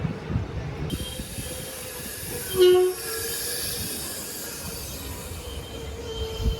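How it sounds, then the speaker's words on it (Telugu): A Guntur–Tirupati train rumbles past with continuous rail noise, and a brief horn-like tone sounds midway through. "ట్రైన్లు అయితే ఇక్కడ ఆగాయి."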